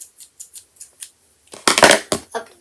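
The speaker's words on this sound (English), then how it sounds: "scissors," Scissors snip repeatedly at a desk, first a series of light, evenly spaced clicks, then several louder, sharper cuts close by, with no talking.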